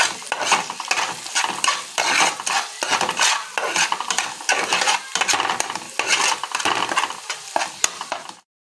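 Spoon stirring chili powder through egg rice in a hot pan, a steady run of scraping, mixing strokes over a soft sizzle, close and fairly loud with no talking.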